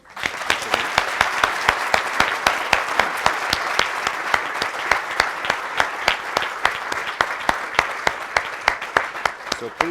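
Audience applause after a talk on reimagining Dublin's bus network, a dense steady clapping from a sizable crowd that fills the whole stretch, with some sharper individual claps standing out near the front.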